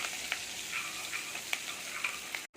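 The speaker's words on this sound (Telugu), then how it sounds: "కొద్దిగా పసుపు, కొద్దిగా కరివేపాకు వేసి అల్లం వెల్లుల్లి పేస్ట్ పచ్చివాసన పోయే వరకు ఫ్రై అవనివ్వాలి." Ginger garlic paste fries in oil with turmeric and curry leaves for a spicy egg fry, giving a steady, fairly faint sizzle with a few soft ticks and spatters before it cuts off abruptly at the end.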